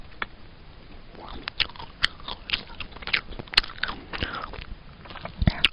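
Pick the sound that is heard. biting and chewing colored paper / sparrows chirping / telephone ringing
biting and chewing colored paper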